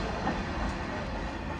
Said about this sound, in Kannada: ಗೂಡ್ಸ್ ಟ್ರೈನ್ ಇಷ್ಟು ಫಾಸ್ಟ್ ಹೋಗಿರೋದು ನೋಡಿದಿರಲ್ಲ ಅವರು